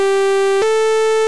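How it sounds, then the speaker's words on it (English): Steady synthesizer sawtooth tone on one held pitch with a dense stack of bright, buzzy harmonics, stepping slightly lower partway through, loud and alone with no talking. "Let's have a listen to the sawtooth first."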